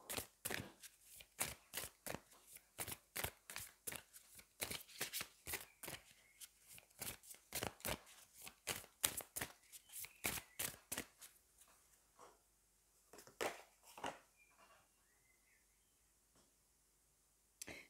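A deck of Magic of You oracle cards is shuffled by hand in a long run of rhythmic, crisp card strokes at close range, slowing into a few scattered slaps near the end.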